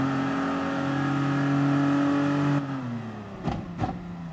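A race car in Gran Turismo Sport revs hard as it accelerates, a loud rising engine whine that holds steady, then drops off sharply with a couple of short clunks after.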